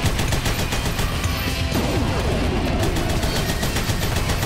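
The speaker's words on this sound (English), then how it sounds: "they're actually launching missiles" Missile launches in the run-and-gun game Huntdown, a dense, loud barrage of rapid bursts and crashing blasts that continues throughout without a break.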